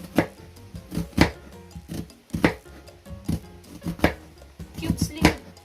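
A knife chops a white onion into cubes on a cutting board, giving a run of sharp, close knocks in an uneven rhythm with short pauses between strokes.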